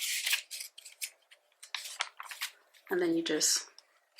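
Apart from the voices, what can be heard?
cutting paper planner inserts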